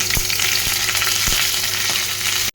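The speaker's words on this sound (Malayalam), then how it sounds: "എണ്ണയൊക്കെ ചൂടായിട്ടുണ്ട് അതിലേക്ക് നമുക്ക് കറിവേപ്പില ഇട്ട് കൊടുക്കാം" Curry leaves crackle and sizzle loudly in hot coconut oil for a masala curry, a steady dense frying hiss with a few sharper pops, close by, with no voices.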